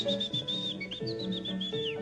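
Two men whistle in imitation of birdsong as an interval act at the 1956 Eurovision Song Contest, giving steady high warbling trills and slides over a continuous orchestral or organ-like backing.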